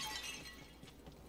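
Wooden boxes smashing under gunfire in the video game Tiny Tina's Wonderlands, a short, bright shattering crash that quickly trails off.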